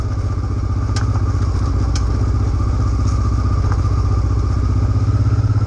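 Honda Africa Twin 750 motorcycle ridden on a rough dirt road, its engine a loud, steady close-up drone with a pulsing low rumble, broken by brief clattering knocks from the stony track.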